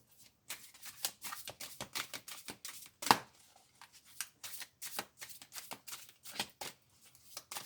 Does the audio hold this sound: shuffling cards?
yes